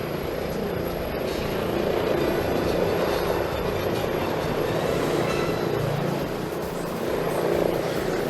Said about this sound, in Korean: 소방 헬기가 옥상 구조 대상자를 안전하게 구조해 헬리포트 착륙장이 있는 계명대학교 동산병원 인계를 위해 현장을 떠나고 있는 모습입니다.